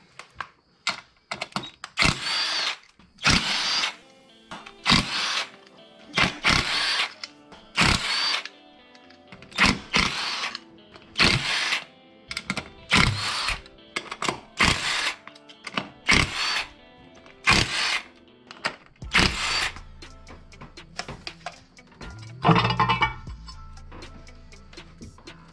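A power tool works loose the 12 mm bolts on an Acura MDX intake, giving a long series of loud, short, evenly spaced bursts, then a lower rumbling stretch at the end.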